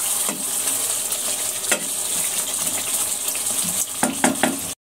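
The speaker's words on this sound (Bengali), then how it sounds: "ঢাকনা দিয়ে কিছুক্ষণ আলুগুলো সিদ্ধ করে নিচ্ছি।" Potatoes simmering in spice paste in a covered pot for egg biryani, giving a steady soft sizzle and bubbling hiss throughout, with a few light clinks and taps before it cuts off.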